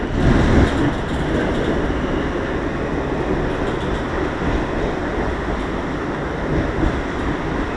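A Washington DC metro train pulls into its final station with a loud, steady rumble and rushing roar that stays fairly constant throughout, with no voices over it.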